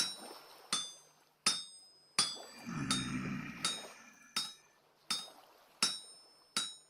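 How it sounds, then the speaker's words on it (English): Regular metallic strikes of a hammer on hot metal on an anvil while smithing in Vintage Story, about nine sharp ringing clinks at a steady pace, close and clear, with a brief low rumble partway through. "Hammer, hammer."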